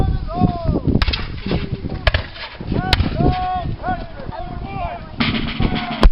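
A Royal Artillery gun crew fires a cannon at the Signal Hill Tattoo military display. Several sharp, loud booming reports are spaced a second or more apart, with a voice talking in between.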